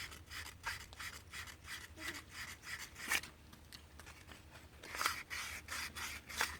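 Sandpaper rubbing old residue off a small brass fitting during a pool pump motor repair, a faint, rhythmic back-and-forth scratching with short strokes, close and quiet.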